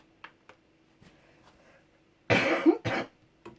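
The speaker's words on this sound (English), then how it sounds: "when I cough I always do it into a t-shirt" A person coughs into a t-shirt while batch cooking mince beef in a kitchen: two close, muffled coughs in quick succession after a few soft background knocks.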